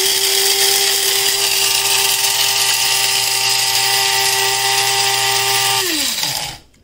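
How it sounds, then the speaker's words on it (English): A coffee grinder runs steadily, grinding beans fine with the lid on: a loud, continuous high whine that holds for about six seconds, then drops in pitch and winds down to a stop. "you gotta grind it so that like it's nice and fine"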